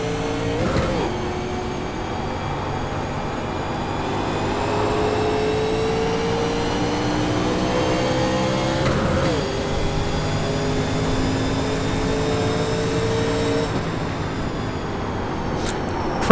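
A race car engine holds a steady, loud full-throttle drone in the NASCAR Legends game at Darlington Raceway, with a few brief pitch dips where it shifts or lifts before pulling hard again.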